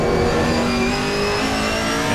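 GT4 race cars at Zolder, a Chevrolet dueling an Aston Martin or McLaren, roar past under steady full throttle, a loud continuous engine howl with no talk.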